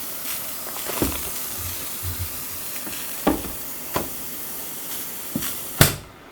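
Steam hisses from the pressure valve of a backpacking cooker pot used to boil ramen, a close, breathy rush broken by sharp clicks and knocks of handling.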